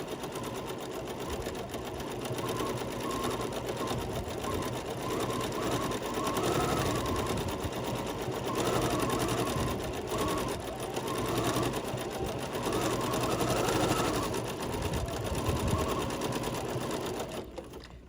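Sewing machine free-motion stippling on a quilt at a short stitch length, a steady fast whirring needle hum that pulses up and down in bursts as the quilting runs, close and continuous.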